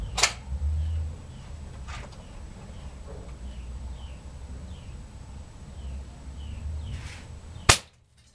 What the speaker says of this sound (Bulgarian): Ето го и първия изстрел.